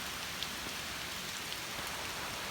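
Steady rain falls outside a house under construction, a dense, even hiss of drops striking surfaces with a few sharper taps, continuous and fairly close, no voices.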